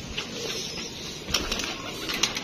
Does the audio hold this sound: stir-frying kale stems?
no